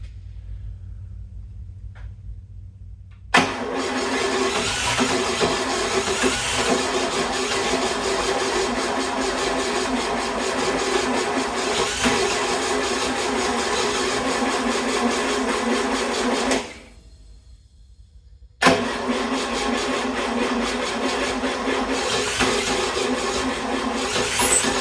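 Engine of a 1960 GMC truck cranking and running, a rough steady mechanical clatter and rumble that cuts out briefly then resumes, loud and close with no voices.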